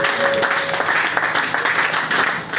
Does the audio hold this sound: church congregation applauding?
yes